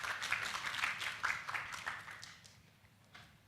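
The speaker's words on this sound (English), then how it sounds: "Everyone, please give a round of applause to welcome our speakers today." An audience applauds to welcome panel speakers at a conference session: steady, dense clapping from a crowd in a room, fading somewhat toward the end with no voices over it.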